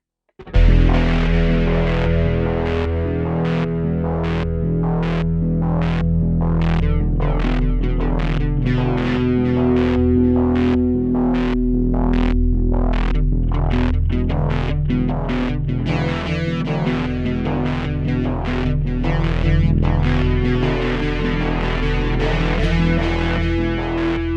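A distorted guitar through a Boss SY-1000 guitar synthesizer plays a steady run of plucked notes, each swept by a resonant filter cutoff preset, continuous and loud.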